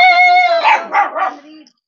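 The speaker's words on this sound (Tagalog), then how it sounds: "Uy, may aso." A dog barks and yips close by in a village setting in the Philippines, a few quick, strained calls in a short burst with nothing else around them.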